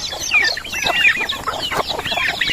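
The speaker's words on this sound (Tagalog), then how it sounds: "Oh, may sisiyo pala ko dito." Loud, close clucking from a group of chickens and chicks, with higher chirps mixed in, busy and continuous throughout.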